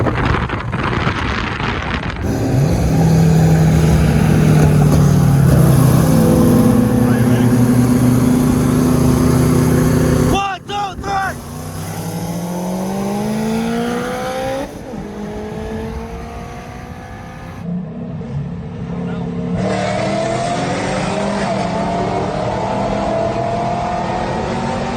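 A 1000hp Dodge Durango Hellcat drag racing other cars roars loudly and continuously, with repeated rising revs through the gears and heavy wind buffeting the microphone; the engine cuts out abruptly several times.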